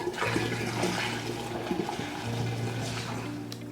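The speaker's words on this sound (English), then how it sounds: "Next, we mix the hot wort into the cool water." Hot beer wort poured into cool water in a carboy during home brewing, a steady rushing, gurgling liquid pour that runs continuously and fairly close throughout, with no talking.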